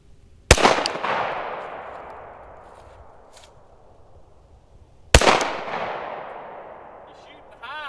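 Two sharp Sig Sauer P365-Flux pistol shots ring out several seconds apart, each a loud crack followed by a long decaying echo.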